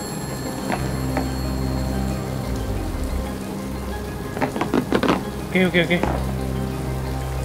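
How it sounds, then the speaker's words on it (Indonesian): Rain falls in the I Am Fish video game as a steady, soft patter under game tones and a low hum. Brief bursts of splashy effects come near the end, and someone speaks briefly. "Hujan, hujan."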